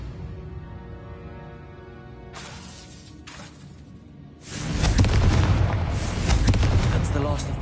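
Confringo fire spell in the Hogwarts Legacy video game bursts out at mid-clip as a loud, sustained blast, following a quieter stretch with low rumble and a couple of brief sharp noises; a voice shouts the incantation beforehand.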